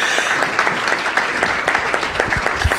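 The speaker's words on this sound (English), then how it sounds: "I think that deserves a little bit of a round of applause for everyone." An audience at a panel discussion on technology and social cohesion breaks into a dense, steady round of applause, loud and sustained with no talking over it.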